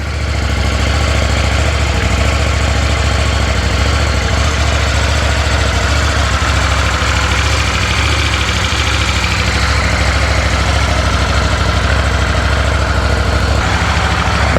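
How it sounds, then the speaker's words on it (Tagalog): A CFMoto 800MT motorcycle idles on its stock exhaust pipe with a loud, steady, low rumble that holds evenly for the whole stretch and is heard close up with no talking. "Ito yung sound niya pag stock pipe."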